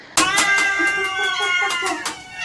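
A cat meows repeatedly in a stretched, wavering caterwaul, close and loud, a series of drawn-out cries running without pause in a neighbourhood setting.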